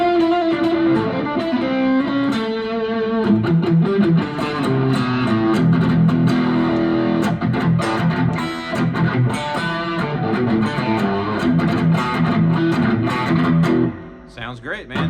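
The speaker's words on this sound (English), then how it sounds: "The clean and the mid distortion and the heavy distortion sound great on this guitar" A Firefly copy of a Gibson ES-125 electric guitar with a wound third string is played through distortion, strummed chords and riffs ringing loud and continuous before cutting off near the end.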